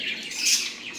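Sparrow chicks squawk as a parent bird feeds them, a shrill continuous outcry that swells in the middle and stays close and loud without any talking.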